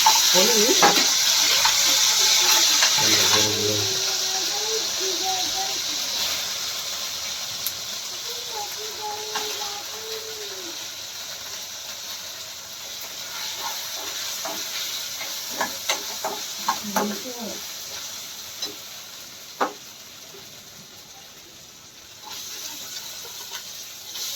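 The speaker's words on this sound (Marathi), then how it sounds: "ही मंद आचेवरती फ्राय करून घ्यायचं आहे" Ginger garlic paste frying in a pan over a low flame gives a loud, steady sizzle and hiss at first, then settles into a softer, quieter fry with a few scattered pops.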